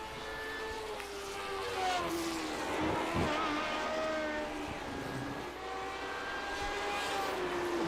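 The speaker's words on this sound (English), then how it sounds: "Ditson sporting the classic Parmalee livery on his Lotus 79." A Lotus 79 race car in a racing video game at COTA, Circuit of the Americas: its engine whines steadily, rising and falling in pitch as it shifts and changes speed, with a constant broad roar beneath.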